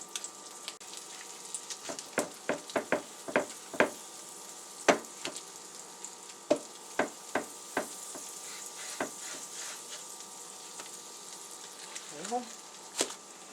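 Bread fries in butter in a pan for a Korean street food breakfast, giving a soft steady sizzle broken by repeated sharp scrapes and taps of a utensil flipping and moving the slices.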